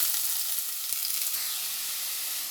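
Two medium onions sizzle in hot coconut oil in a pan, a loud, steady frying hiss that runs continuously, with a couple of brief clicks from stirring.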